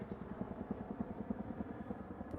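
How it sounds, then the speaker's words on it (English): A helicopter flies overhead at a high-school baseball game, its rotor heard as a steady rapid low thumping chop that holds through the whole stretch with no talk. "That sound you hear is a chopper flying right over my head."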